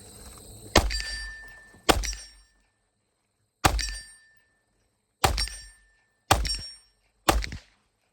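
Six sharp pistol shots from a G3 Tactical or Glock handgun with a ported barrel or compensator crack at uneven intervals, most followed by a bright metallic ring as rounds strike steel targets, with silence between.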